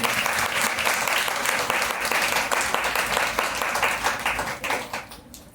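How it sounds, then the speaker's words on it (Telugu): A church congregation claps hard and together, a dense, loud burst of applause that runs evenly for about five seconds and then tapers off at the end. "గట్టిగా చప్పట్లు కొడదాం."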